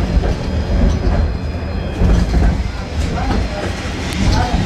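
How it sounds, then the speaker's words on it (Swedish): Continuous low rumble and rattling of a train rolling over tracks in Uzbekistan, steady and close, with faint clatter throughout. "passerar vi järnvägsspår."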